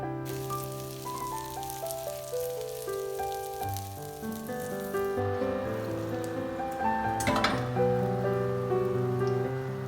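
Steady crackling sizzle of flour-coated, battered zucchini frying in hot oil, partly buried under louder background music with sustained tones.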